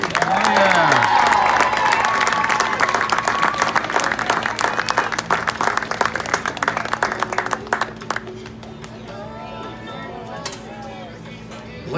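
An audience applauds senior soccer players at a senior-day honoring ceremony, with steady crowd clapping and scattered cheers that start loud and gradually thin out. An announcer speaks over the clapping partway through.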